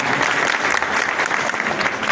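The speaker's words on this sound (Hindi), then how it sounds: "एक बार इनके लिए भी ताली बजा दीजिए" Audience applause for a bhajan singer at a public gathering, dense and steady throughout with no voices over it.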